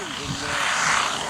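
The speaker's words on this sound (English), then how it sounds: "And Keith will be on a flyby" A large scale model propeller plane makes a flyby at a model aircraft flying display, its engine drone swelling as it passes with a shifting pitch.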